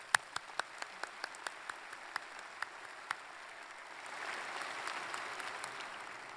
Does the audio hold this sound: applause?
yes